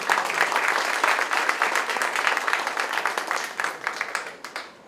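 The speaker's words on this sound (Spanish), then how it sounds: "Otro aplauso" An audience at a law symposium applauds steadily, a dense wash of many hands clapping that holds level and then thins out and fades toward the end.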